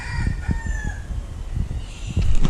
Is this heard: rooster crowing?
yes